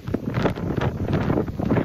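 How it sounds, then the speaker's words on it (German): Strong wind gusting across a harbour with reeds and moored boats, a steady broadband rush with buffeting gusts blowing over the microphone throughout. "Hier ist der Wind auch ein bisschen abgemildert."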